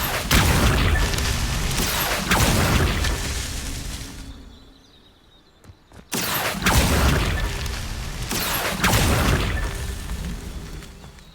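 Accio summoning spell cast in a game: two long surges of loud booming, whooshing magic effects, separated by a brief quiet lull before the second one slams in.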